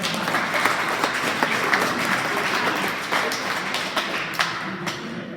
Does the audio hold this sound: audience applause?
yes